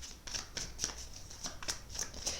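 Tarot cards shuffled by hand for a guardian angel reading, a close, rhythmic series of crisp riffling snaps repeating about every quarter second over a low background hum.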